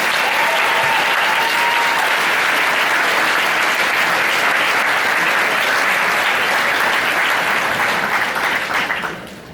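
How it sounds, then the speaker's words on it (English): Loud, dense applause from a bodybuilding contest audience at the 2018 UKDFBA USN Classic, sustained evenly for about nine seconds before tapering off at the end. "Huge, huge round of applause."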